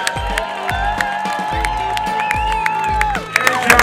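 Crowd at a fun run in Dallas applauding and cheering, with steady clapping, scattered whoops and shouts throughout, loud and close, lasting a few seconds with no speech over it.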